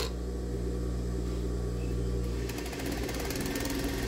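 A sewing machine runs steadily as it stitches close to the top edge all the way around a swimsuit waistband, a continuous close mechanical whir that shifts to a faster, rhythmic chatter partway through.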